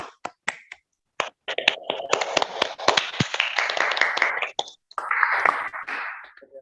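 A classroom of students claps for a group after its presentation in a physics lesson on Coulomb's law, beginning with a few scattered sharp claps before the clapping turns dense and irregular, then pauses and resumes briefly.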